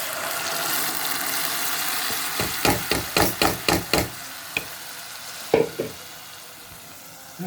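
Shrimp and tomatoes fry in oil with a steady close sizzle, broken midway by a quick run of sharp knocks and scrapes from stirring in the pan, then a couple more clacks as the sizzling continues, with no talk.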